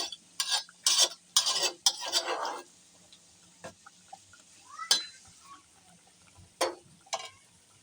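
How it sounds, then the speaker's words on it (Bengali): A spoon stirs beef and satkora citrus curry in a cooking pot, giving a few bursts of scraping and clinking in the first three seconds, then scattered isolated clinks and taps with quiet pauses between. "সাতকরাগুলো দেওয়ার পর একটু নেড়ে চেড়ে দিচ্ছি, যাতে করে সাতকরাগুলো সিদ্ধ হয়ে যায়"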